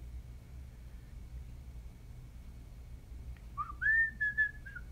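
A person whistles a short, wavering tune near the end, clear and close, after several seconds of low hum and background noise.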